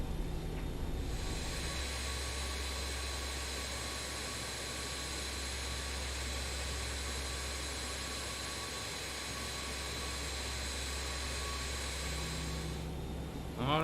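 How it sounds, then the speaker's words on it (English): A BAE146-100 four-engine jet taxiing, a steady loud engine drone with a high whine and a deep low rumble, heard continuously from inside the aircraft. "About a 20 knot taxi is about the limit that we want to go in this aircraft."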